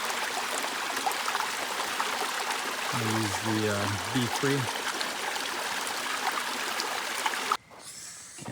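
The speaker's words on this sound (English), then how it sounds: "Flowing good. The waterfall is right up there." Steady rushing of a flowing mountain stream near a waterfall on a Mt Pinos backpacking trip, a constant broad wash with a brief voice in the middle before it cuts off near the end.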